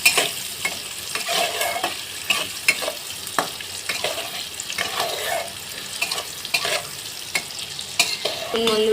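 Potatoes with salt and turmeric fry in a pan, a constant close sizzle punctuated by repeated spatula scrapes and knocks at an uneven rhythm, without speech.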